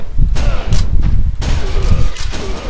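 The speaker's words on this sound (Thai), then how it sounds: "เสียงปืนป๊อกป๊อกป๊อก" Rapid bursts of video game gunfire with heavy low thuds, several shots in quick succession over a dense, noisy background.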